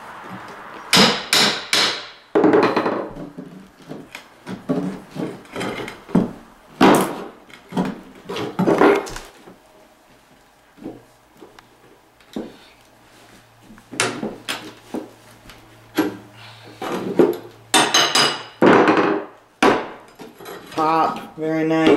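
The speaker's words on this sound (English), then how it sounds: "Use your hammer to tap that in if you need." Hammer tapping a nail back into wood during floor prep while quarter-round trim is removed, sounding as sharp, loud, close knocks in irregular bursts, some rapid clusters and some single strikes, with quiet gaps between.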